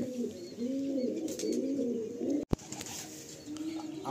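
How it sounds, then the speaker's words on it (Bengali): Pigeons in a home loft in Garia coo in soft, repeated throaty rolls, close and fairly quiet, with a brief sharp knock partway through and no talking. "এটা হলো নর পায়রা, আর এটা হলো মাদি পায়রা।"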